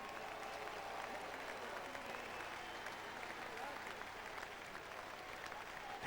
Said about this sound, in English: Please give a warm round of applause to the Denver Pioneers